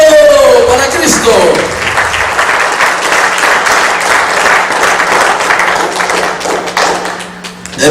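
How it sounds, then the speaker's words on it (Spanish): Church congregation applauding at a service, a dense sustained burst of many hands clapping that fills the room, loud and close, starting after a brief spoken voice and continuing steadily to the end. "Un aplauso a Cristo"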